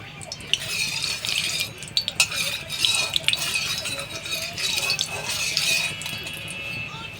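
Fish goes into hot oil in a pan, giving a steady sizzle with scattered clinks and scrapes of utensils against the pan throughout.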